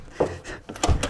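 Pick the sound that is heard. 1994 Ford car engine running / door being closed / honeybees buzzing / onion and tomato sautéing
door being closed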